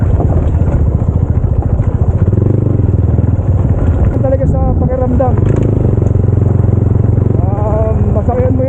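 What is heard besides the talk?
motorcycle riding along mountain road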